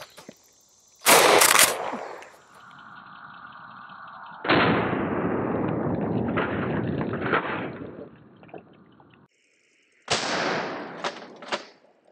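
An MNP-12 shotgun firing Challenger number four buckshot at a damaged armor plate: loud, close booming reports with a sharp crack, followed by a mid-clip rumbling burst and a final blast.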